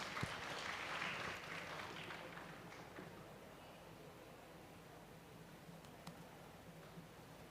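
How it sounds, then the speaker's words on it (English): Faint audience applause at a school event welcoming a principal: a soft, continuous wash of clapping that is strongest at the start and settles into a low, distant hiss. "Please welcome him with a huge round of applause."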